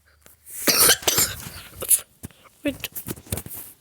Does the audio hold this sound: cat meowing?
no